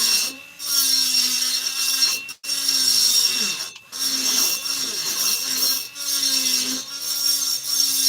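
Rotary grinder working the intake port of a Stihl 660 chainsaw cylinder, a sustained whining grind in several passes with brief pauses between them, close and loud, with no talk.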